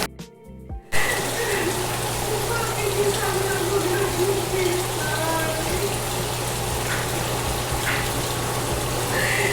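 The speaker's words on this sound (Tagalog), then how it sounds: "Drain natin yung tubig." Water rushes steadily out of a guppy culture tank on a fish farm, a continuous loud gushing splash with a low pump-like hum underneath, after a brief quiet start; a voice speaks faintly beneath it.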